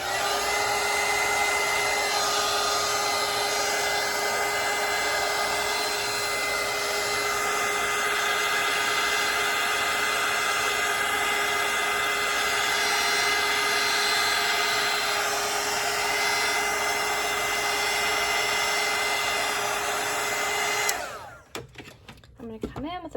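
A hair dryer blows steadily and close for about twenty seconds to dry a watercolour lemon painting, a constant whining rush that cuts off near the end, followed by a few soft handling sounds.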